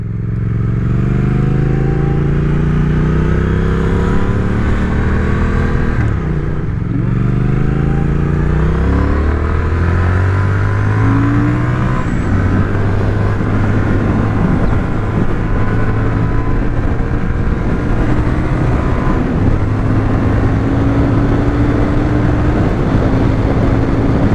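A 2021 Triumph Speed Twin motorcycle accelerates at full power toward the redline near 7000 rpm. Its engine note rises loud and close through several gears in repeated climbing sweeps with brief shift dips, over constant wind and road roar.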